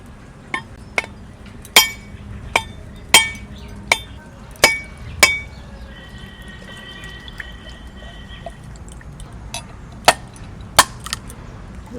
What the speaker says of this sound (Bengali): তাই নারকেলটা ভেঙে নিই।